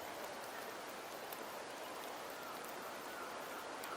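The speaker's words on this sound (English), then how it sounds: "The rains in Septimont never seem eager to leave this season." Steady rain falls in the Septimont region of the video game Wuthering Waves, an even, dense hiss of drops running unbroken throughout with no voices over it.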